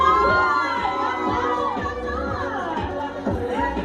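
Wedding guests cheer and shout in a crowd as a newlywed couple is welcomed, a loud, steady wash of voices with children's shrieks mixed in.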